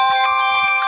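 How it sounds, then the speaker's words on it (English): A phone alert sounds as a bright, sustained electronic chord of stacked tones that holds steady and loud through the whole moment, with no voices over it. "Sorry, I got an alert on my phone."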